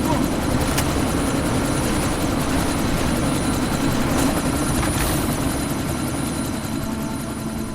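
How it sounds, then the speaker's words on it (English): Helicopter in the Deus Ex: Mankind Divided game, idling on the pad before takeoff. The dense rotor and engine drone stays loud and steady from start to finish, with a few faint clicks on top. "That chopper's about to take off!"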